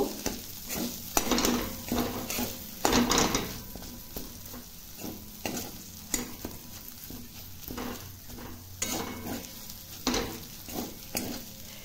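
A spoon scrapes and stirs spiced potato filling for aloo paratha in a pan, making irregular, repeated scraping strokes over a soft, steady frying sizzle. The sound is close, with no talking.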